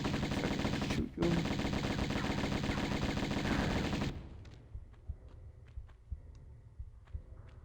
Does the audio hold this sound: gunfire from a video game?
yes